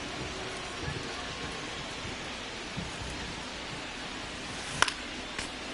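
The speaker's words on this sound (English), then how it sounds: "This rain is not letting up." Steady hiss of rain falling in the baseball video game MLB The Show 25, a continuous broadband wash with a couple of brief sharper taps near the end.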